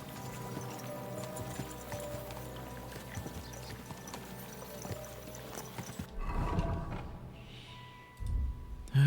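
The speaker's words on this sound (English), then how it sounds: "we'll give the horses a gallop again." Rhythmic hoofbeats of horses clip-clopping at a steady pace in the video game Kingdom Come: Deliverance II, fairly quiet, followed by a brief rustle and thud near the end.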